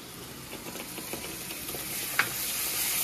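Ground spice paste is stirred into frying katla fish with cumin powder and salt, giving a soft, low sizzle under repeated scraping stirs and one sharper clink of the utensil; no one speaks.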